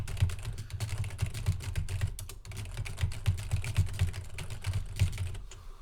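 Continuous rapid typing on a computer keyboard, steady clicking keystrokes close up, with no voices.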